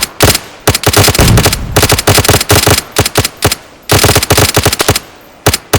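Loud, rapid bursts of automatic gunfire from the survival video game DayZ, in long rattling volleys broken by short pauses, with no talk over them.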